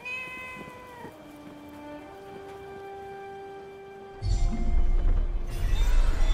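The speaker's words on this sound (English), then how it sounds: "So glad they have cats in Athia" A cat meows repeatedly in the fantasy video game Forspoken, with a long series of clear, drawn-out cries followed by louder background game ambience.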